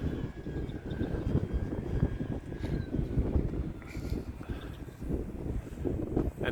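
An E-flite T-28 1.2 m radio-controlled model airplane flying in strong wind between rain storms, a steady distant electric motor whine buried under heavy, continuous gusty wind rumble on the microphone.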